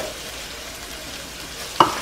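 Rice fries in a pan for mushroom risotto, a soft, steady sizzle close by, broken near the end by one sharp scrape or clatter of a utensil stirring it.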